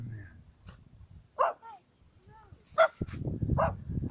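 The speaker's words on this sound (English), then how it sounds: "I think the old dog wants to bite my leg off." A dog barks in short outdoor bursts near a fishing spot, a few sharp calls spread across a few seconds with someone speaking in between.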